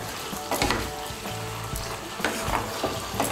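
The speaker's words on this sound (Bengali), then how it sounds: "এখন আঁচটা বাড়িয়ে দেব। বাড়িয়ে দিয়ে একটু নাড়াচাড়া করে নিয়ে" Pumpkin curry sizzling loudly over a high flame in a pan while a spoon stirs it, giving a dense crackling hiss with a few quick scraping strokes near the mic and no talking.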